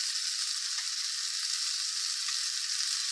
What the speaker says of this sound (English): that's a pretty good little sear